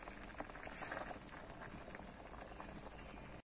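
Ghetkol leaves boil in a pot of water: a steady, fairly soft bubbling and gurgling that runs without a break for over three seconds and then stops abruptly.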